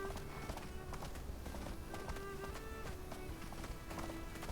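Galloping horse hooves in the video game Windstorm, a fast continuous clip-clop under steady background music with faint tonal cues and no pause.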